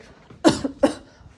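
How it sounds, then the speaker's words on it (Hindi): Two sharp coughs come from a person close by, about half a second apart, in an otherwise quiet setting. "खांसी किस बात की हो रही है भाई?"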